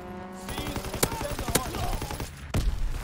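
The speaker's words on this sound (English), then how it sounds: "Fighter pilot inbound, strafing the target." Fighter plane strafing run in Call of Duty: WW2, rapid bursts of gunfire crackling over a noisy battlefield, with several sharp, loud impacts standing out among the rattling shots.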